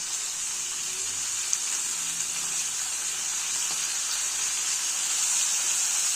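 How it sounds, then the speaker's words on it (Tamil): Chopped tomatoes sauté in a pan for brinjal chutney, giving a steady, even sizzling hiss that runs continuously at moderate level with no speech. "தக்காளியை சேர்த்துட்டு அதையும் வதக்குறோம்"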